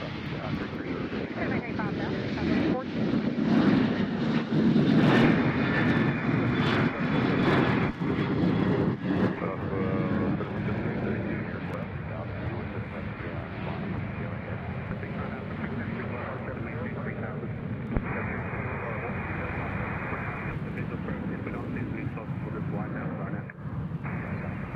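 A Southwest Airlines airliner at Nashville International Airport sends out a loud, sustained engine roar that fills the whole stretch, strongest early on and easing slightly later, with wind buffeting the microphone.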